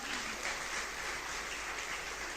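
Reunion audience applauding, a steady, fairly soft wash of many hands clapping heard from a distance without voices.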